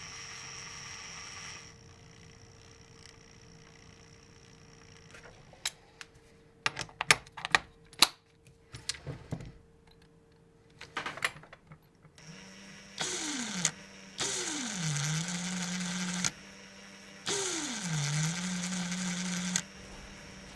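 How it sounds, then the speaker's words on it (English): A Fein cordless drill begins with sharp clicks and taps, then whirs in several separate runs. Its motor pitch swoops down and settles at a steady hum each time the variable speed trigger is eased, close and moderately loud. "This drill sounds very futuristic."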